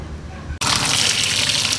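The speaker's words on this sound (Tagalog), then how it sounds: "Ubuhusan lang natin ng malamig na tubig." Cold water poured over freshly cooked macaroni, starting abruptly as a loud, close, steady gushing splash of liquid that continues without break after a brief moment of quieter background talk.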